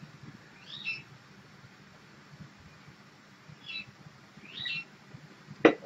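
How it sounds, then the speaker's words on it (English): A pet bird calls from downstairs in a home, sending a few faint, distant chirps spaced across several seconds, then a sharp close click near the end. "My bird wants attention."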